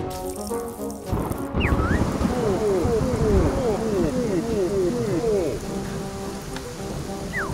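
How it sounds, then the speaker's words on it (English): Rain falls in the Yooka-Laylee video game as a steady, dense hiss that runs through the whole stretch, with a busy series of chirping, sweeping calls layered on top through the middle. "Let's make it rain."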